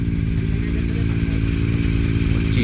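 A Yamaha MT-09 motorcycle idles steadily while warming up, a loud, close, even engine drone with a smooth low throb and a light mechanical clatter throughout.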